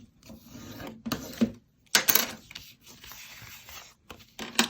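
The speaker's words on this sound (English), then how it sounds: "I'm just going to fold these down." Paper pieces being folded for a mini album: close, intermittent rubbing and creasing rustles in short bursts separated by quiet gaps.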